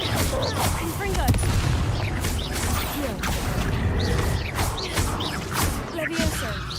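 A Confringo fire spell bursts in Hogwarts Legacy combat amid a dense barrage of blasts, booms and crashing impacts, with someone talking over the din.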